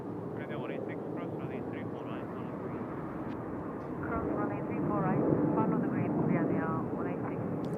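Peach airliner at Seoul Incheon Airport, a steady distant jet engine roar that swells slightly midway, with a person talking over it throughout.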